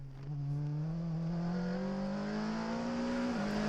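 A racing car at the 2016 V de V Endurance Series in Barcelona holds a loud, steady high-revving engine drone near the limiter, its pitch creeping upward before dropping slightly at the end, with no talk.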